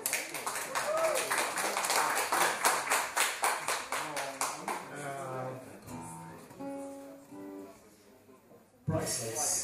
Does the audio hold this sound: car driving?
no